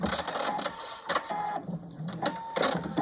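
Sewing machine stitching a quilt block seam, a fast mechanical whirring chatter with brief pauses and restarts, close and moderately loud with no talk.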